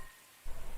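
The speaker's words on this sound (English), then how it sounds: "Oh, and it's raining, too. It's really coming down hard." Heavy rain in the video game The Hundred Line: Last Defense Academy, a quiet hiss that swells abruptly halfway into a dense, full downpour roar.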